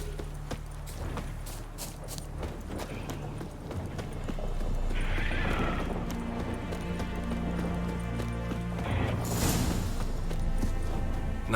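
Horse hooves clip-clop in a steady walking rhythm over a constant low rumble, with a couple of brief whinny-like sounds partway through, in the video game The Witcher 3.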